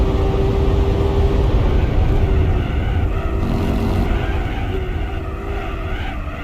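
A Honda NSX engine in the Gran Turismo 4 racing game drones steadily at high revs, a dense, loud, continuous tone with slight pitch shifts under braking and turn-in, and no talking.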